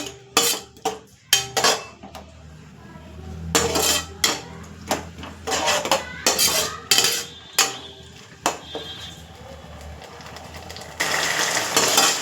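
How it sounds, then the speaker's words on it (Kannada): A spoon scrapes and clanks against a pan while spicy hotel-style baby corn manchurian is stirred with tomato ketchup, giving irregular metallic knocks and rattles with short pauses between strokes. "ಟೊಮೊಟೊ ಕೆಚಪ್ಪು ಹಾಕ್ಕೊಂಡು ನೀಟಾಗಿ ಮಿಕ್ಸ್ ಮಾಡ್ಕೊಳ್ಳೋಣ"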